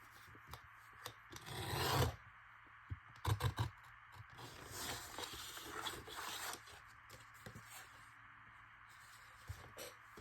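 Cardboard packaging being cut by hand, a scraping, rasping series of strokes with short bursts and quieter rubbing between them, close and fairly soft with no talking.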